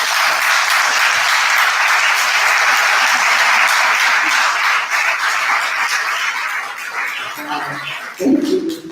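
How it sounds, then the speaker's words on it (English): Steady, dense applause from a large audience fills the room at a Brooklyn community board town hall meeting for several seconds, then fades as a voice begins speaking. "let's put our hands together and give a round of applause for Cynthia Doris Penny"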